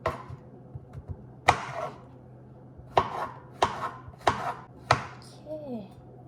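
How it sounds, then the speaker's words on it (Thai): Knife chopping vegetables on a board: sharp, close thuds in an uneven rhythm, about seven strikes, with quiet gaps between them. "หั่นให้หมดเลย"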